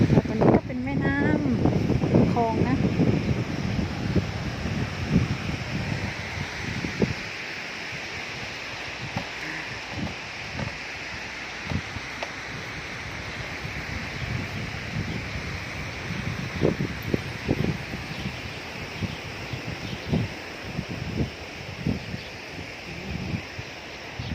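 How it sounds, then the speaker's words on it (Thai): Strong wind buffets the microphone while riding a bicycle past old houses, a steady loud rushing roar with gusty rumbles throughout, and a person talks over it at the start. "ลมแรงมากเลย ตอนใจขี่จักรยานเนาะ"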